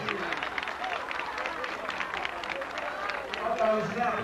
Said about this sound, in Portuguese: Cadê os aplausos para os amigos da Fazenda Rancho Alegre?